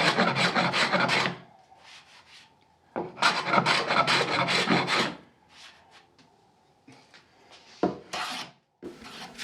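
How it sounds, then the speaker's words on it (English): Number 4 hand plane smoothing a wooden board in two long, close, rasping strokes followed by several shorter, lighter passes. "I use my number 4 plane just to make sure everything is nice and smooth"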